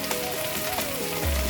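Dried shrimp and vegetables sizzle steadily in a hot pan while being stirred, a continuous close crackling hiss with a louder low scrape near the end.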